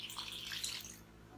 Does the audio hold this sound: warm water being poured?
yes